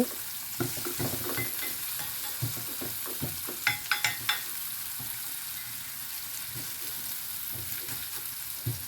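Onion and ripe tomatoes fry in a pan with coarse salt, a steady soft sizzle close by with occasional spoon taps and scrapes against the pan.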